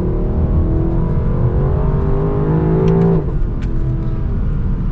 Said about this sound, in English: that V8 sound is absolute perfection